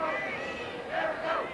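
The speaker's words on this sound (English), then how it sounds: "You can hear this crowd." Large tennis crowd in a packed 4,800-seat center court at the Westside Tennis Club in Houston during an Agassi–Sampras semifinal, a steady murmuring roar with cheering swells, continuous and fairly loud.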